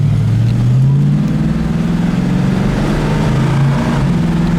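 A 1966 Mustang Fastback accelerates with a kickdown, its engine note rising and then dropping as the automatic shifts, repeating across the clip, loud and close with no talk.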